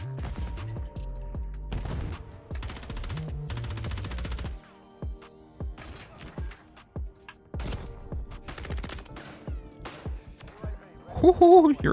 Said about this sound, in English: it shoots so fast that the 30 round mag is not enough